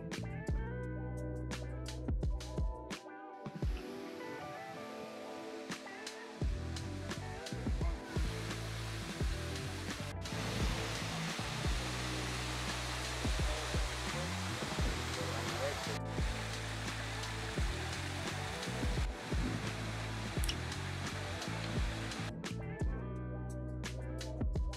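Fountains splash in the gardens of the Royal Palace of Caserta in Italy, giving a steady, broad rush of falling water that holds throughout with only brief dips.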